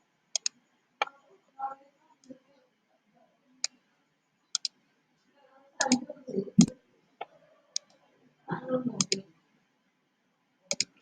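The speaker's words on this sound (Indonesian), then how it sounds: "Dan jawabannya kita ketikkan di situ." Computer keys clicking as answers are typed, in sparse, sharp single taps and short irregular clusters, with brief murmured speech in between.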